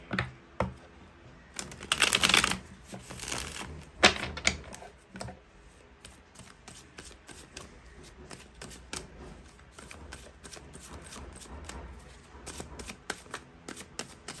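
Tarot cards being shuffled up close, with bursts of rapid riffling and flapping early on, then a steady run of light, quick card taps and slides continuing to the end.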